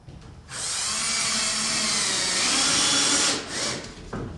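A power drill drives screws to fasten the top of a DirectAire 4413W/4408 inlet during installation, one sustained close whine of about three seconds that dips briefly and then stops.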